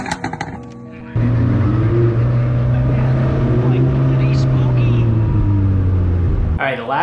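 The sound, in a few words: Lamborghini Huracan with factory race exhaust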